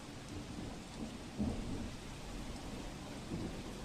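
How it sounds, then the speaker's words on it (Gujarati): Heavy rain falls steadily over farm fields in Dwarka, Gujarat, as a dense, even hiss, with a low, distant rumble of thunder swelling briefly in the middle; no voices are heard. "દેવભૂમિ દ્વારકાના આ દ્રશ્ય છે કે જ્યાં વાવણી લાયક વરસાદ થઈ રહ્યો છે"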